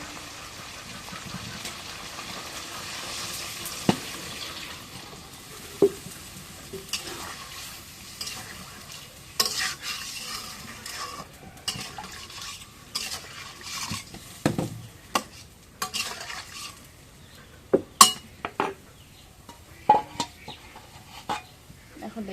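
Meat cooking in a pan and being stirred: a quiet, low background of cooking noise broken by scattered utensil clicks and scrapes, which cluster more densely toward the end.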